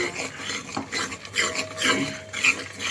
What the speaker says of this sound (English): You need to stir this continuously and see that you get it into golden color